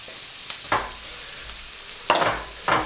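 Onions and garlic sizzle in a pan under a steady hiss, with several distinct scraping stirs of a utensil rising above the frying.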